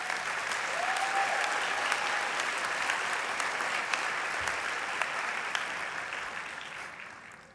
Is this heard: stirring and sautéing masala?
no